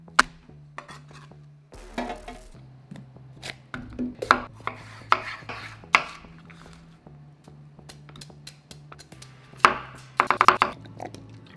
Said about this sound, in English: slice up the veg